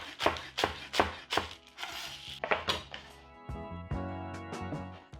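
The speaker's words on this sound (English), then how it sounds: "And then we'll chop the top greens for garnish" A knife chops broccoli top greens on a cutting board, sharp rhythmic thunks close by, first spaced and then faster near the end, with no talking.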